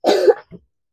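A person coughs close by: one loud, harsh cough burst followed by a short, softer second cough, then silence.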